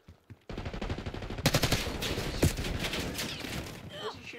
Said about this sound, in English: Where's he shooting me from?